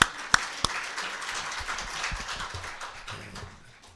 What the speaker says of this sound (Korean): 박수 치려면 확실히 치세요.